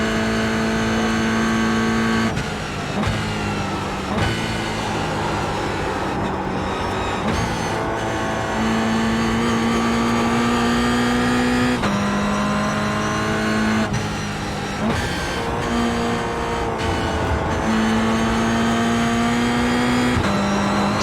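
A race car engine in the iRacing simulator drones loudly and continuously, rising and falling in pitch through gear shifts and corners, with no talking.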